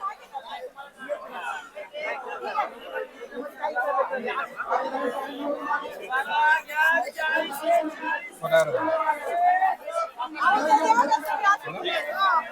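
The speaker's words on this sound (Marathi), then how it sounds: "किती गर्दी आहे" Dense crowd chatter fills the Pune Market Yard wholesale flower market, with many overlapping voices close and far, and the murmur rising and falling steadily.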